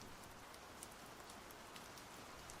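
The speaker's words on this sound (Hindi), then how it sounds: "कुछ ही देर हुई थी कि अचानक बारिश शुरू हो गई" Steady, soft rain falls on its own with scattered patters of individual drops, a quiet sound effect for a Hindi audio drama set near a forest farmhouse, with no voices over it.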